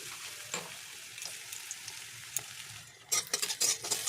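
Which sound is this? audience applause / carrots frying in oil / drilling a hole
carrots frying in oil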